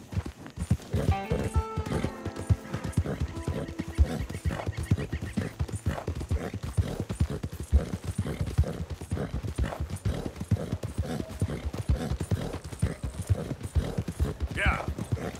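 Horse hooves clip-clop steadily and up close in Red Dead Redemption 2, with occasional whinnies over busy game sound and someone talking throughout.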